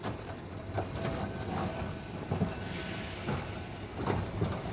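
An old Blackpool tram rolls along rails with a continuous rumble and periodic clacks and squeaks, moderately loud and steady.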